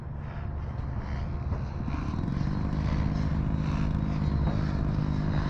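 An E-flite F-16 Thunderbird RC jet with a 6S electric ducted fan on landing approach, a steady loud whooshing whine that holds without pause and grows slightly fuller partway through.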